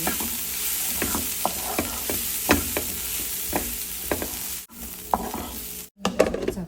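Green bean vegetables cook in a pan with a steady sizzle, punctuated by rhythmic scraping and tapping from a spatula stirring them, with brief pauses near the end.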